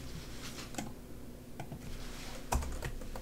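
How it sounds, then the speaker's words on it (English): Quiet typing on a computer keyboard, with a short run of light irregular key clicks and one sharper tap near the end, with no talk. "So if I type in"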